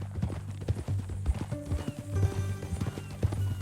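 In the Red Dead Redemption 2 game, a horse's hooves clip-clop in a steady walking rhythm, close and clear, with a short neigh about midway under the game's low background sounds.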